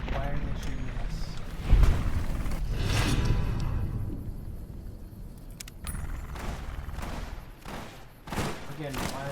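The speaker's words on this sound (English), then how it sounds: "Wait, why are they shooting us?" Hostile enemies shoot in Fallout: New Vegas, with bursts of gunfire and sharp cracks scattered across several seconds, one heavy thump early on, and a voice talking over much of the shooting.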